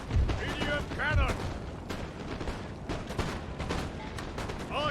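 Artillery cannons fire in Napoleon: Total War, with a few heavy booms early on, then scattered distant musket and cannon reports in a continuous battle din while voices shout commands.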